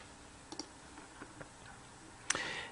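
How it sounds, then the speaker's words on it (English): A few soft, quiet computer mouse clicks are followed by a sharper, louder click on a Save button, set against a near-silent room. "And then when I click Save,"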